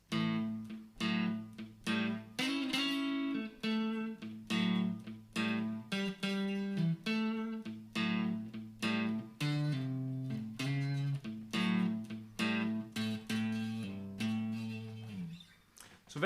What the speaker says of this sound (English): And then with the rhythm, that would sound like this.